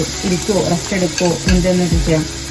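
Chicken frying in a pan sizzles and spatters close by, with stirring scrapes in a repeating rhythm, while a person talks over it.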